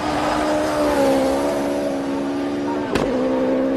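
A race car climbing the hill at the Simola Hillclimb in South Africa, its engine holding a steady, loud drone with a sharp crack near the end.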